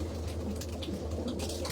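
Pigeons cooing inside a large loft with many sections and perches, soft low coos repeating close by over quiet background rustle.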